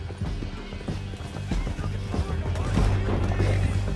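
Rapid hoofbeats of galloping horses in Red Dead Redemption 2 pound under a music-heavy game soundtrack, steady and close, with a brief whinny-like cry amid the mix.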